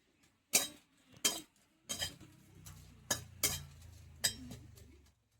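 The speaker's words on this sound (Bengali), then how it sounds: "প্রথমে আমি শুকনো লঙ্কাটা দিয়ে একটু নেড়ে চেড়ে নেব।" A spoon scrapes and clinks against a dry pan while red chillies are stirred for pickle spices. Several sharp metallic knocks come at uneven intervals over a soft rattle, close by and fairly quiet.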